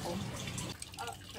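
Running water from a household tap left on and overflowing, a continuous splashing and trickling wash that softens after the first half, with a few drip-like splats near the end.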